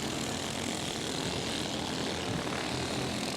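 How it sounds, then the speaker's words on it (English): Race car engines drone at a speedway event, a continuous distant roar holding an even level throughout, with no voices. "all I hear is engines"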